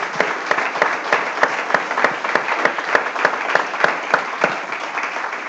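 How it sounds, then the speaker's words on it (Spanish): Steady applause from a church congregation, many hands clapping at a brisk even rhythm throughout, fairly loud with no voices over it. "Démosle un aplauso al Señor"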